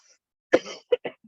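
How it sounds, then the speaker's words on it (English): A short burst of coughing, three or four quick dry coughs close to the mic with a brief throat-clearing quality, in an otherwise quiet room. "Sorry for the coughing."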